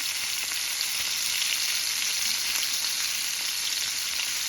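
Fresh sardines frying in hot oil make a constant, even, bright sizzle, close and steady throughout, with no voices over it.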